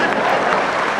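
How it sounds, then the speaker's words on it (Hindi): An audience at a Hindi kavi sammelan poetry recital breaks into dense, sustained applause, clapping filling the hall at even strength throughout. "इधर से तालियां कम बज रही हैं"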